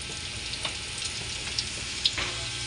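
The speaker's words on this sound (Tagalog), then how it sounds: "Pinrito ko rin yung carrots." Carrots frying in a pan of oil, a steady soft sizzle with faint crackles and a few small pops, close and fairly quiet, with no talking.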